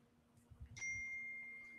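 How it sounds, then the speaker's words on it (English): A phone notification ding sounds once, sharp and close, then rings on as a steady tone for about a second over a quiet room with low background rumble. "And then on my phone, I had a ding"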